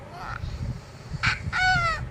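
A child imitates a hen's crying with a few short nasal squawks, ending in a louder drawn-out wail, close by over faint room noise.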